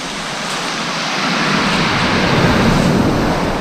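Sea surf washes against a UK shore, building from a softer hiss into a louder, broad rushing roar of breaking waves, with no voices.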